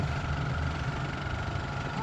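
A newly fitted engine on a farm machine used in rice-field work runs at a steady idle, a low continuous drone with no changes in pitch.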